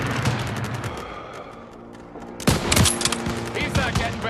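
Rapid bursts of World War II gunfire in Call of Duty: WWII, loud clattering volleys of rifle and machine gun shots filling the scene, with battle sounds and shouting voices around them.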